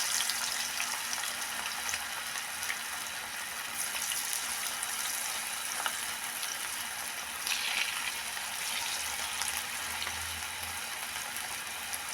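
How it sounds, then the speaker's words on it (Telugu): Gobi 65 battered cauliflower pieces frying in oil in a pan, a steady, dense sizzle and crackle held close and continuous throughout, with a low hum underneath. "చూడండి ఫ్రై అవుతుంది బాగా"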